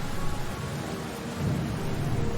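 Steady heavy rain pours with a continuous rolling rumble of thunder underneath, loud and close throughout the short stretch, with no talking.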